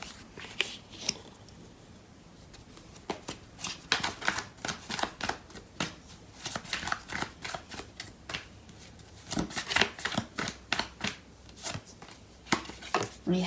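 Tarot cards shuffled by hand, a quick, near, quiet run of crisp riffling snaps and slaps repeated for the whole stretch, with no one speaking.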